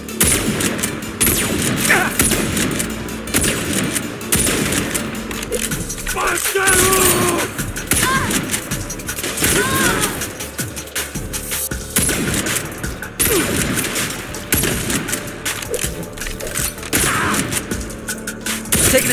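A dense, loud volley of gunfire in the Saints Row video game, with continuous rapid shots and crashes, and voices shouting over the din.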